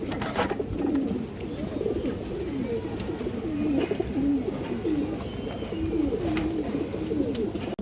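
Pigeons coo repeatedly in soft, low, rolling phrases close by, several overlapping calls in an uneven rhythm against light background noise, with no talk.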